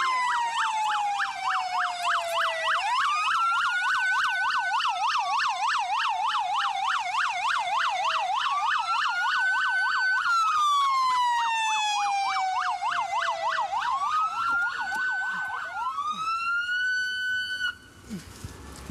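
A police car siren blares during a drug raid on a marijuana farm, loud and close, cycling through long rising-and-falling wails and a rapid yelp pattern almost without a break.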